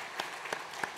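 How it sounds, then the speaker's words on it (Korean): A church congregation applauding to welcome visitors, heard as three separate loud claps spaced about a third of a second apart over a soft background hiss. "우리 박수로 환영하시겠습니다."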